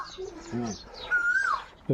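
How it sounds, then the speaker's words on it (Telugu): A koel calls in a green hillside tribal village. A single clear, rising and falling whistled note stands out after brief talk, and voices are heard around it. "కోయిల సప్పుడు"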